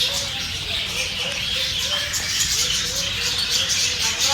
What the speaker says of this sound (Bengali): আর ভিতরে এই সাইডে রয়েছে প্রচুর পাখি।